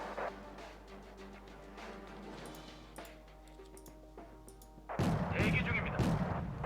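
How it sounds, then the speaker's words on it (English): SU-100 tank guns firing in the Wargame Red Dragon battle game, a few dull booms over a low rumbling backdrop with clicks, ending in a louder burst of blast and crackle near the close. "Looks like a couple of units taking fire from the SU-100s."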